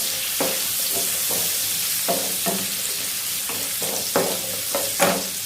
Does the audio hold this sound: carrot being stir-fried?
yes